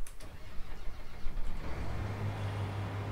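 A truck engine cranks and starts in the farming game Landwirtschafts-Simulator 19, a short rough rumble that settles into a steady low idle, close and alone.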